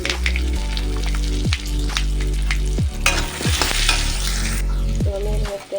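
Chopped hog plums fry in oil with salt and turmeric, giving a loud, crackling sizzle close by, with repeated stirring knocks and scrapes against the pan.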